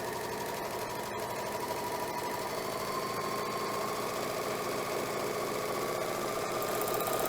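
Janome Magnolia 7034D serger stitching jersey knit fabric, a steady fast mechanical whir and rhythmic needle knocking running continuously and close, with no talking over it.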